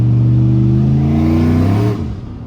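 A car fitted with an On3 76/65 ball-bearing turbo accelerates hard, its loud, close engine drone holding a strong steady tone before the pitch drops and fades as the gear changes.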